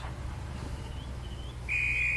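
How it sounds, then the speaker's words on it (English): A train guard's whistle gives one sharp, steady high blast at a station platform, ringing out clearly over low background rumble. "Oh, that's my guard's whistle."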